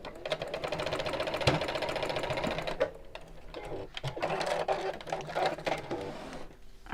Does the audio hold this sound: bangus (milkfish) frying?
no